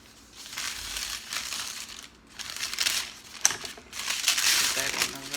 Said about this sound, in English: If it's hard and frozen, oops. We cut it first.